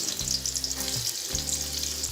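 Onion and green chillies hit hot oil with cumin seeds and a few dried red chillies and fry with a bright, close, constant sizzle, broken by a couple of brief stirring scrapes.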